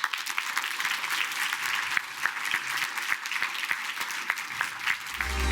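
Sustained applause fills a hall at the LIFE Awards 2025 ceremony as an environment commissioner comes to the stage, dense and steady for several seconds, with a low rumble at the very end.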